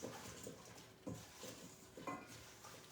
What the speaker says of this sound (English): We'll get a spoon and stir our added Brussels sprouts to the sauce.